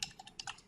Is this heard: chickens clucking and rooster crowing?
no